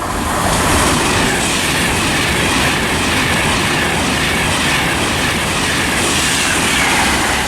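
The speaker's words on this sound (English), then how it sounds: "Passing through now, got a Virgin train service to Glasgow Central." A Virgin train bound for Glasgow Central passes through Watford Junction on the West Coast Main Line, a loud, close, continuous roar and rumble of a fast-moving train sustained throughout with no talk.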